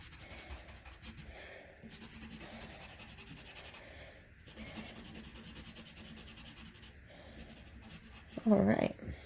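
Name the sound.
colored pencil coloring in a drawing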